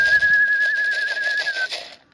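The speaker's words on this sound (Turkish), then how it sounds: "Yavrular ıslığın sesiyle yeme gelecekler." A person gives a single sustained, steady whistle to call pigeon chicks to feed, loud and close, lasting nearly two seconds against faint outdoor noise with soft cooing beneath.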